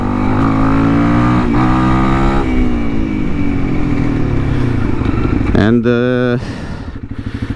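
A Honda CRF 300L with a performance-tuned ECU roars loud and close under acceleration, its engine pitch climbing and shifting through gears before dropping off sharply near the end, with a rider speaking briefly over the engine.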